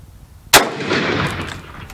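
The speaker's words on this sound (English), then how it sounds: "Okay, one more shot." A single sharp, loud gunshot from an 1895 Russian carbine cracks out close by, followed by a long reverberating boom that slowly fades outdoors.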